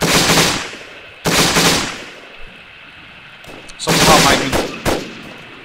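Gunfire erupts during an ArmA 3 co-op platoon assault on an enemy compound: several loud, close bursts of rapid shots separated by short pauses, while someone speaks briefly between them.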